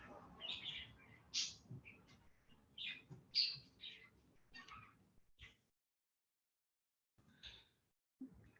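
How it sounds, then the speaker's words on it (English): Loud birds chirp and tweet outside in bursts of bright calls for about five seconds, then a pause before a few more scattered chirps near the end. "Oh Lord, these birds are loud."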